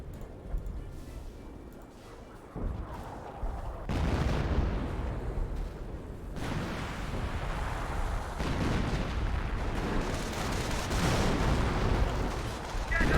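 Artillery barrage in Company of Heroes 1, a World War II strategy game: repeated heavy booms and rumbling shell blasts pile up into continuous loud bombardment, with a voice talking over it.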